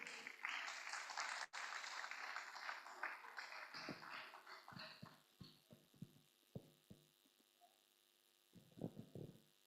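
Audience applause for Professor Ette at a book review during an annual distinguished lecture: dense clapping for about four seconds, then thinning into scattered claps and a few isolated handclaps as it dies away.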